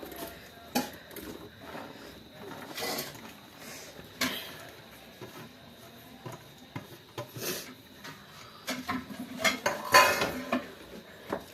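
Chopped raw mango for pickle goes into a hot pan and is stirred, giving quiet, irregular metallic clinks and scrapes of a spoon against the pan.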